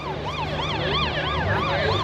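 An emergency siren wails in a rapid rising-and-falling sweep, loud and steady, over a low rumble of traffic at a car show with music blaring.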